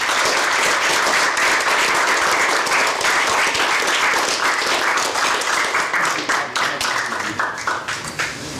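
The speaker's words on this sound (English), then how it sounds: "I want to give them a round of applause." A panel audience at a music production career event breaks into sustained, dense applause that stays loud and steady before thinning out and tapering near the end.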